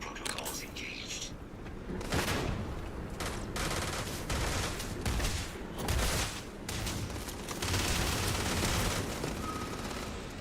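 Rapid gunfire bursts in the sci-fi video game Starfield during combat against a Terrormorph, with loud, dense volleys repeating throughout and faint voices underneath.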